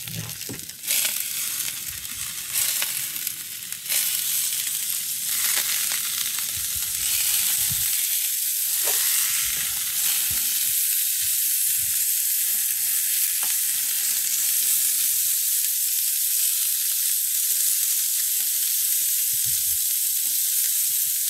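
Beef and turkey patties on a grill at a Fourth of July barbecue, frying with a constant dense hiss and crackle that fills the whole stretch, with scattered scraping and clatter early on, close and steady.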